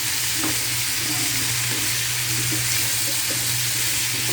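A continuous close sizzle of baby potatoes frying in olive oil with rosemary, broken by light intermittent scraping and clicks from stirring in the pan; no voices.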